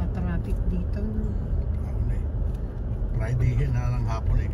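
Steady road traffic with cars and a bus-like engine rumbling past on a busy Friday-afternoon road to resorts, a continuous low drone under frequent nearby conversation.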